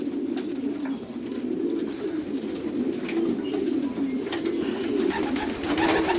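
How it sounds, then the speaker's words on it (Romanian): A breeding male racing pigeon coos in a low, throaty rolling rhythm, with repeated soft calls close by in a quiet loft. "Un super reproducător și un porumbel deosebit."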